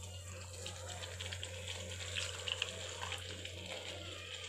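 Water runs steadily into tamarind being prepared for ginger pachadi, as if poured or flowing from a tap, over a constant low hum, with no talking.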